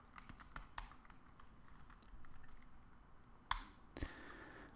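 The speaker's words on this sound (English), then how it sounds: "So now I typed something into the keyboard." Fingers type on a computer keyboard, a quiet, irregular patter of light key clicks with a couple of sharper louder taps near the end, no voices.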